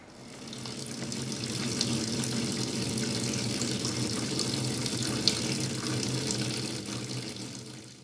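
Water runs steadily from a tap, a continuous soft hiss and splash with no breaks, fairly quiet throughout.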